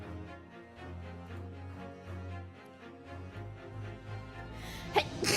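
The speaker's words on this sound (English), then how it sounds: "You guys didn't hear a sneeze." A single sneeze bursts out near the end, loud and sharp, after a stretch of steady game music during a live stream of The Great Ace Attorney Chronicles.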